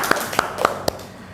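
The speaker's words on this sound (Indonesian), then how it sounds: "Tepuk tangan untuk Gin." Four or five sparse, separate claps sound in a classroom with a fairly quiet room around them, a small, brief round of applause for a student.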